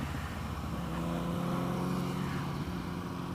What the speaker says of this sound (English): Let's see how much torque we've got here in fourth. We'll do a roll on it.